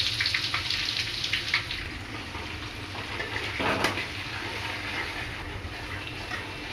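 Ginger and garlic frying in a pan for homemade fried rice give a soft, continuous sizzle with faint crackles and a few clinks of stirring, quiet and close, with no talking.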